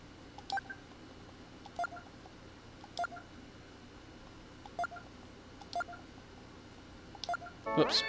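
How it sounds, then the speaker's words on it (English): Phone number dialed in the video game Snatcher: a series of short DTMF keypad tones in an even, spaced rhythm, clear and close over a low background hum, ending in a brighter burst of tone. "Let's make that phone call, shall we?"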